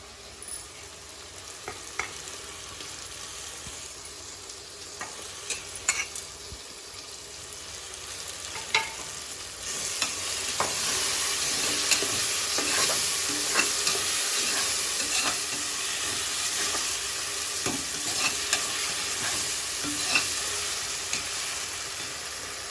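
Ginger garlic paste and tomatoes sauté in a pan for mutton biryani, a steady frying hiss that swells louder midway, dotted with sporadic clicks and scrapes of stirring, no voices.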